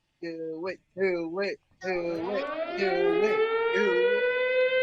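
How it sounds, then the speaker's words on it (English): A siren wails close by at Bristol Motor Speedway during a NASCAR race, opening with a few short rising blasts before settling into a long sustained tone that slowly climbs in pitch. "I hear the siren."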